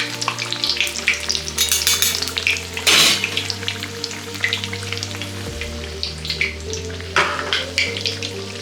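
A mughlai paratha fries in plenty of hot oil, a loud, close, crackling sizzle that swells in bursts with occasional scraping and a steady low hum underneath.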